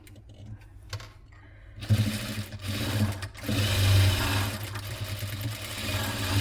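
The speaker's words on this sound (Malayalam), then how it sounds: "ആദ്യം നമുക്ക് ഈ ഒരു ഭാഗം സ്റ്റിച്ച് ചെയ്തെടുക്കാം" A domestic sewing machine stitches the corners of a fabric piece, starting after a quiet moment and then running steadily and loudly to the end.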